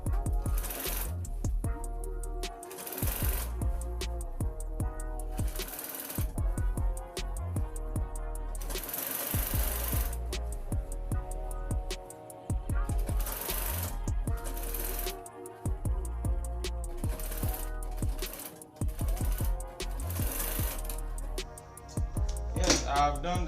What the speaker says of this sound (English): Place it on the neck and sew along the neck while following the piping.